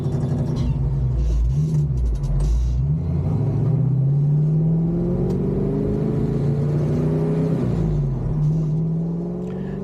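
A car engine with a newly installed ignition drones steadily at a low, even rumble, close and continuous, with slight pitch wavers and no speech.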